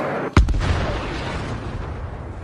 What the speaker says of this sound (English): Just look at how this powerful artillery unit destroys Ukrainian trenches.